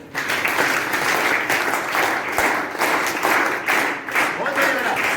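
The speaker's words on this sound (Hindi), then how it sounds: "एक बार सक्षम भैया के लिए तालियां।" A classroom group claps for a student named Saksham, a steady, dense burst of applause lasting several seconds with faint voices mixed in.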